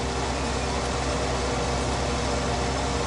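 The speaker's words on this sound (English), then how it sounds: "Turn on mower." A mower running in Farming Simulator 19, a loud, steady broadband mechanical drone with a low engine hum, unchanging for the full stretch.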